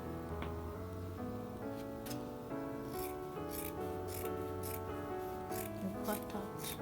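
Scissors cutting fabric for a simple skirt, snipping crisply and repeatedly over a steady bed of background music, close by and moderately loud.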